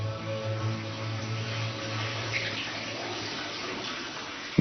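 Water runs steadily in the sulphur baths of Tbilisi, Georgia, a continuous wash of flow at a constant moderate level with no voices.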